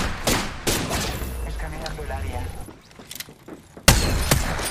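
Gunshots ring out in a video game firefight, spaced bursts and a rolling volley of slow, heavy shots, fairly loud, with someone talking over parts of it.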